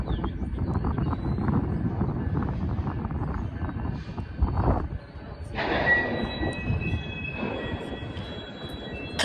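A freight train moves through Bailey Yard rail yard with a heavy, close rumble and screeching wheels, and sustained ringing tones appear in the second half.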